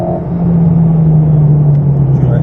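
A race car on the Dreux circuit holds a steady, loud engine drone that sinks slightly in pitch as it slows, close and continuous with no talking over it.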